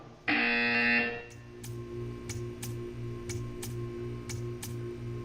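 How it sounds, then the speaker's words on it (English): A loud electronic buzzer from Portal 2 blares for about a second, followed by a steady series of soft rhythmic ticks pulsing underneath. "When you hear the buzzer, stare at the art."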